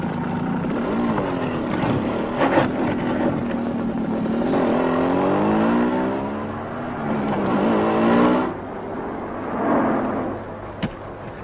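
A vehicle's engine revving repeatedly as it is pushed along, loud and close with rising and falling pitch sweeps, no speech over it.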